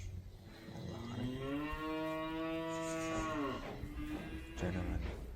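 Cattle at a livestock market selling Charolais and white-legged bulls, one long, loud, close moo that rises and holds steady, then a second shorter low call near the end.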